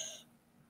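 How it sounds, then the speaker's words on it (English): A single brief cough or throat-clear from someone with a lingering post-COVID cough, sharp and close at the very start, then fading into quiet room tone. "Excuse me while I carry on coughing and spluttering."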